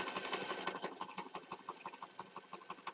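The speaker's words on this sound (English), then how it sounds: "now I'm just going to start sewing around the outside edge here." A sewing machine stitches around the edge of a canvas journal cover, a faint, rhythmic run of quick clicking stitches close by with slight pauses.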